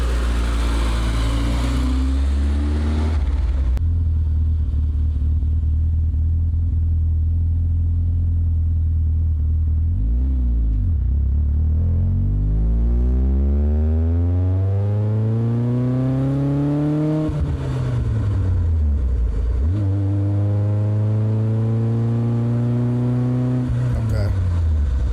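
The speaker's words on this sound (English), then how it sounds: "I like how you can hear the engine already in the interior," Idle of an E30 BMW M3 engine heard from inside the cabin, a steady low rumble with rising and falling harmonic sweeps as revs shift, loud and continuous under people talking.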